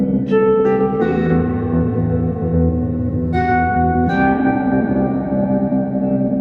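Harp notes plucked through the Lossy lo-fi digital effect, crunchy, with distorted, echoing tones ringing out in a few bursts, loud and continuous with no talking.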